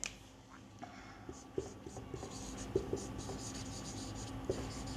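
Chalk or a marker writes English grammar examples on a board in a classroom, giving soft scratchy strokes and light taps at an even, close pace, with no talking.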